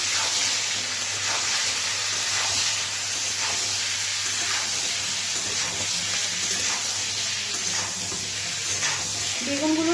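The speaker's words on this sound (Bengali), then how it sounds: "এই বেগুনগুলোকে একটু নাড়াচাড়া করে নিচ্ছি" Eggplant slices fry in a pan as they are stirred, a steady, close sizzle and hiss running the whole time with faint scraping strokes now and then.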